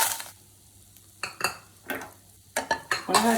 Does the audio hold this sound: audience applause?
no